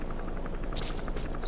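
A helicopter in the video game Metal Gear Solid V: The Phantom Pain gives off a steady, rhythmic thudding chop with a faint background hum.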